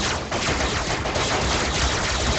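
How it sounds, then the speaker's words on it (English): Two ships in the robot-building video game Robocraft fire a dense barrage, a continuous loud crackle of rapid gunfire with no break across the whole stretch. "Did a pretty good barrage from 2 ships."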